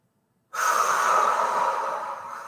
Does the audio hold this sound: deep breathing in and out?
yes